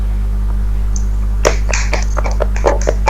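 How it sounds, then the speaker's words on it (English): Scattered applause from a small audience at an examination session, a sparse run of separate claps starting abruptly and continuing over a steady low electrical hum. "Kindly give him a good applause."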